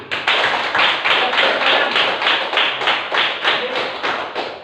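Classroom of students claps in unison, a loud, close, steady rhythmic beat of hand claps repeating evenly for several seconds with no talk over it.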